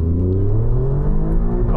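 An Alfa Romeo Giulia Quadrifoglio accelerates hard in second gear with a manual shifter, its engine note climbing steadily in a loud, close, continuous rising roar with rumbling exhaust underneath.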